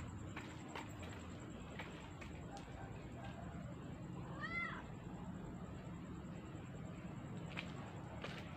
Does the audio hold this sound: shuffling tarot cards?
no